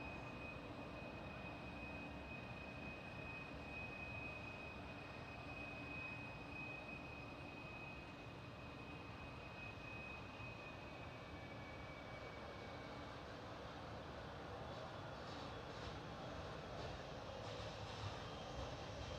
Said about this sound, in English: 777 freighter.